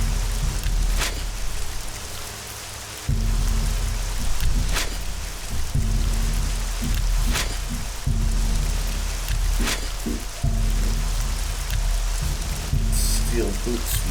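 Steady rain falls in the fantasy video game Nehrim, a constant hiss with occasional sharper drop sounds and low rumbles, running throughout at moderate level.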